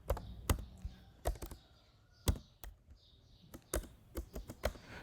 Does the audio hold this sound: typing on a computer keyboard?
yes